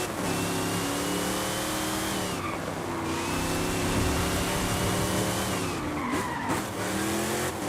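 KITT, the Knight Rider car, drives in the racing game Forza Horizon 5, its engine droning and shifting pitch through gear changes, with tire squeals and skids over a steady loud game mix.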